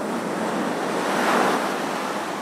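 Sea surf rolls in on a Turkish coast under a cold winter wind, a loud, continuous wash of breaking waves and gusty air with no pauses, swelling slightly in the middle.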